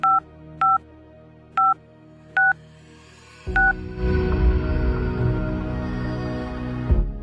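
A telephone number is dialed on a handset, five short two-tone DTMF beeps in an uneven rhythm, followed by a steady, louder line tone that holds for several seconds, close and clear with no talking.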